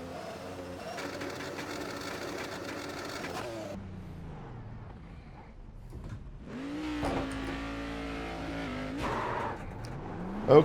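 Race car leaving the pits in iRacing, a Cadillac CTS-VR at Watkins Glen, with a steady engine drone, a quieter lull, then a rising rev as it accelerates away and shifts up.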